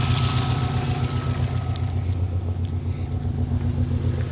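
Subaru WRX engine idling with no cabin heat, a steady rhythmic low chug with a faint whine above, close and even, no talking.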